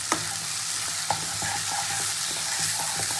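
Slit green chillies go into frying masala with yogurt for a capsicum rohu fish curry. A loud, steady sizzle runs throughout, with light spoon taps and stirring scrapes on the pan.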